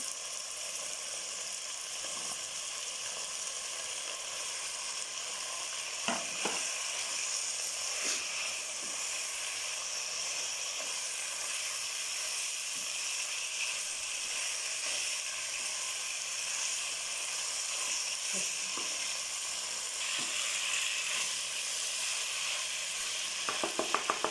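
Capsicum frying in a pan of chicken jalfrezi: a continuous bright sizzle with the occasional scrape or stir, steady and close throughout, with no talk.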